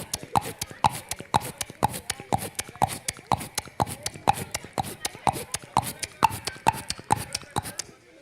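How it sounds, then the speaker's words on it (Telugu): A single horse walking along a road, its hooves landing in a steady, even rhythm of clear, close clops that repeat throughout with no other sounds. "ఈ విధంగా single horse walk sound effect ఉంటుంది."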